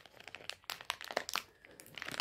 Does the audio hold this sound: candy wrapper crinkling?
yes